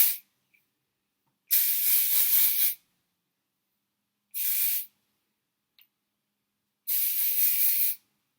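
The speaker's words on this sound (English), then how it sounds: "give it a little spray" Three bursts of hairspray hiss nearby, one long, one short, one medium, separated by silence.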